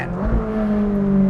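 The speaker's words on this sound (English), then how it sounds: "I'm glad I got one little squeeze of the throttle." Ferrari 458 Speciale A naturally aspirated V8 revving under a short throttle blip, a loud, close, rising engine tone with strong harmonics held for just over a second.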